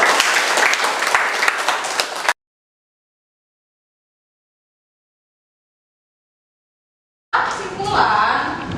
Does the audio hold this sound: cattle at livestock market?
no